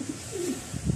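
Young racing pigeons give soft, low cooing calls, a couple of brief coos close by, quiet against a faint background hiss.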